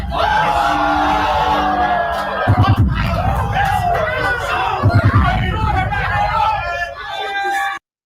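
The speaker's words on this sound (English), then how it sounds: "listen to the reaction in the crowd" A crowd at a rap battle reacts loudly to a bar, with yelling and whooping that surges in bursts over a dense wall of voices, then drops off abruptly at the end.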